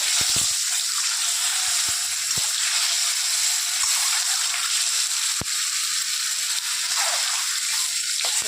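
Food sizzles and fries in a wok on a home stove, a steady bright hiss with occasional soft clacks of stirring and handling, close and continuous with no talking.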